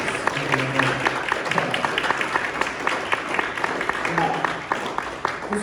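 Applause at a jazz concert in an arts and literature lab, steady clapping from a seated audience with a few low voices murmuring underneath, moderately loud and continuous throughout.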